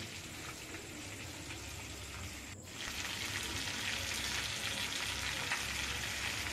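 Ghetkul leaves stirred and frying in a pan with salt and turmeric, a steady close sizzle that swells louder partway through, with no talking.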